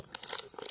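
Plastic packaging of a French army combat ration being torn open, close crinkling and tearing in a quick burst with a short pause midway.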